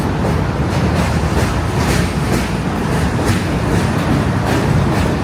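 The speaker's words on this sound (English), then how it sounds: "N train is coming over the bridge here." A New York City N subway train rumbles across a bridge nearby with a steady, loud roar and rhythmic clatter of wheels on the track.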